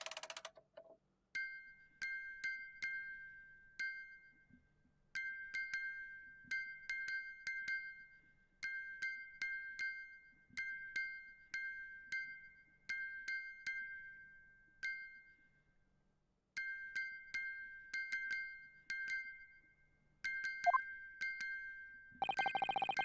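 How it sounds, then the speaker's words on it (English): A broken music box from The Great Ace Attorney Chronicles game chimes in repeated bright, bell-like bursts of plucked notes, each fading out, with brief pauses between phrases and a short louder tone near the end. "It's the defense's belief that the sound emanating from this music box is broken"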